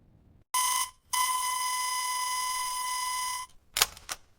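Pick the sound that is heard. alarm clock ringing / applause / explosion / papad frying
alarm clock ringing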